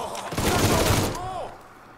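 Gunfire from the Mafia III video game: a dense, loud burst of shots packed into the first second and a half, fading into quieter game ambience with a brief tonal swoop near the end.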